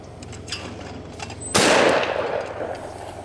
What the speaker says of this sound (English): It's a gun